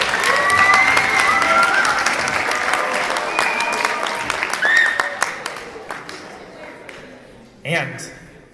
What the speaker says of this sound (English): let's give them a round of applause, our 8 remaining finalists